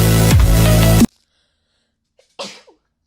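A single sharp sneeze bursts out near the mic after a second of loud, dense background sound, followed by a pause of silence and a brief trailing breath.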